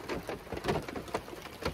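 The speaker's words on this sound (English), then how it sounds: "But you can hear the rain coming down" Steady rain patters on a truck roof, a dense, even drumming of drops close overhead with no voices.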